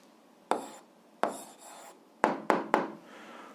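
Handwriting an algebra answer, several crisp pen or chalk strokes close by, two longer scratches followed by three quick taps and marks, in a quiet room without speech.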